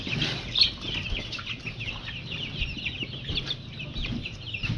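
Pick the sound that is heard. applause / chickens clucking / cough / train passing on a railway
chickens clucking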